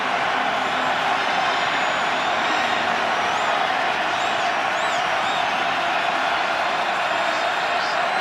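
Stadium crowd at an NFL game between the Ravens and Chiefs, a dense, sustained roar of cheering that fills the whole stretch at high level, with whistles rising above it.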